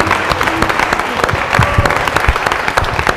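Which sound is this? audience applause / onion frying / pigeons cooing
audience applause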